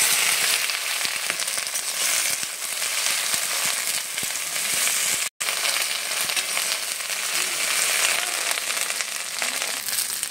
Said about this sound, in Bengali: তেল গরম হয়ে গেছে, এবারে এর মধ্যে আমি ঢেঁড়সগুলো দিয়ে দেব।